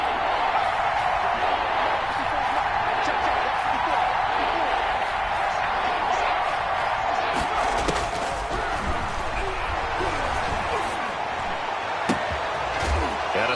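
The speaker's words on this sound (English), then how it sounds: "The crowd getting into it as we come up on a big 3rd down." Steady dense crowd roar filling a stadium in a video game football broadcast of a Seahawks game ahead of a big third down, loud and continuous, with a commentator's voice faintly mixed under the noise.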